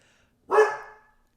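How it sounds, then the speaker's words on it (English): Rocky the dog lets out a single loud, close bark with a sharp attack and a short tapering tail, standing alone against a silent background. "Sounds like your dog is talking to you."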